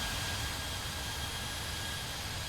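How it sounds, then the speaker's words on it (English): Jet2 airliner in Microsoft Flight Simulator: a steady, broad jet-engine roar holds at one level throughout, a close, continuous whoosh with no talk. "Jet2 Holidays just landed next to us"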